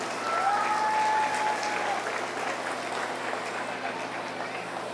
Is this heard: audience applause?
yes